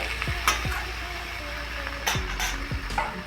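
Spinach, eggplant and potato curry being stirred in a pan, with repeated scraping strokes of a spatula against metal over a steady sizzle, several clear clinks spaced irregularly, close and moderately loud, no talking.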